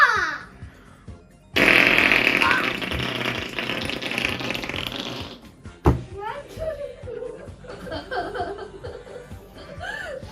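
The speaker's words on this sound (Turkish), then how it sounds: "Ne kokuyor burada ya? Osurdu." A long, loud, rasping fart plays in the Roblox game Escape Prison Obby, followed by chuckling and laughter from players talking over the game sound.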